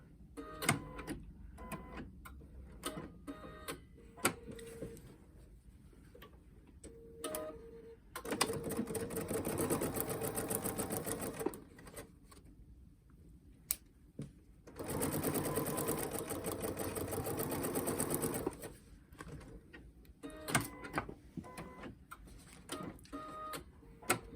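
A sewing machine stitches pleats along the edge of a fabric face mask with a 1/4 inch seam, running in two long steady bursts between quieter stretches of fabric handling and clicks.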